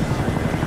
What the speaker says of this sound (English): Why is that guy shooting a chopper gunner?